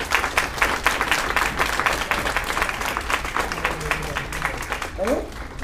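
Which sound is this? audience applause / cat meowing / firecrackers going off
audience applause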